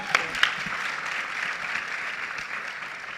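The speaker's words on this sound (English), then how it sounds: "Please give one final round of applause for our social entrepreneurs." Summit attendees give social entrepreneurs a final round of applause, a few sharp near claps up front before sustained, fairly soft crowd clapping carries on evenly.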